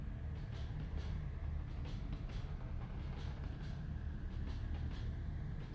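A moving train in the video game What Comes After, rendered as a continuous low rumble with faint rhythmic clickety-clack of the wheels over the rails, steady and enveloping, with no voices.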